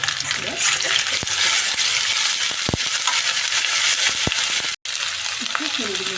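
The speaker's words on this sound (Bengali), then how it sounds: "রসুন বাটা আদা বাটা দিয়ে দেবো" Garlic and ginger paste fries with a dense, steady sizzle in a pot for mutton biryani, broken by a few sharp utensil clinks and one brief gap.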